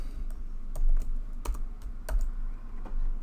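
Rapid clicking keystrokes on a computer keyboard while working in a spreadsheet, a steady run of close, crisp taps with no talking.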